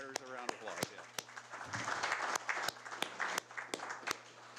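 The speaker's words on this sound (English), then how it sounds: "let's give all the firefighters a round of applause" People at a city council meeting clap for the firefighters, with scattered sharp claps over voices talking.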